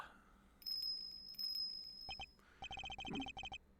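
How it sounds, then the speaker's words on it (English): A small bell on an animal's neck tinkles in a video game, ringing in short bright bursts that stop and start, with a quick run of rapid chiming near the end; fairly faint overall. "And is that a bell around its neck?"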